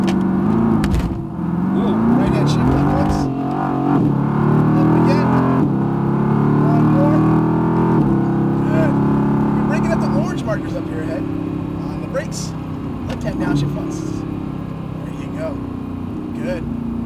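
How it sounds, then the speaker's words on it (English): A Mercedes-AMG GT R accelerates on a race track in Las Vegas, its engine droning loudly and rising steadily from inside the car while people talk over it throughout. "let's go ahead and go. Want to start accelerating?"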